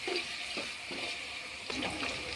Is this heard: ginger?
yes